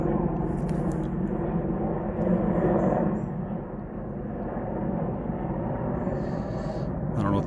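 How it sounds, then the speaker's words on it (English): Military Apache helicopters flying around a lake near Santee, South Carolina, heard as a steady, fairly loud low rumbling drone that persists throughout with a slight swell midway, under outdoor ambience. "See if I can't get you closer to the military aircraft that's flying around the lake"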